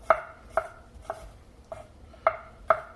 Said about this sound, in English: we're gonna go right to our garlic, and we're just gonna get those into nice little slivers as well